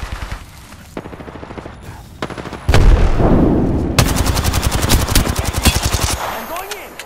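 Rapid automatic gunfire from the Apex Legends battle royale game on PS4 Pro, with sustained bursts of shots and loud sharp reports building toward the end.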